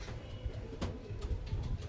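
Soft, low pigeon coos repeat at a loft housing birds brought from Punjab, faint and close against a quiet background with no talk.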